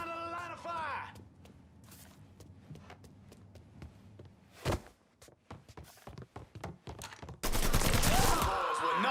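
Gunfire in the Mafia 3 video game, with a burst of shots, scattered impacts and footsteps, then heavy sustained firing at the end, under a man's speech.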